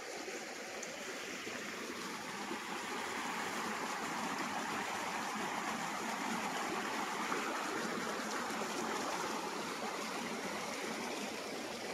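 A small river running beside a rural farm lot, a faint, even rushing and babbling flow that holds steady throughout with no voices.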